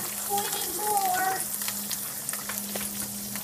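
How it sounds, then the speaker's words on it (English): Food sizzles and crackles steadily in a pan, with a low hum underneath and a few brief tonal clinks early on. "The sizzle."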